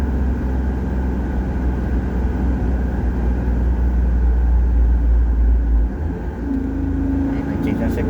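A Suzuki DA17V minivan's engine holds a steady drone around 3000 RPM, a continuous close rumble from inside the cabin with a slight dip and shift near the end.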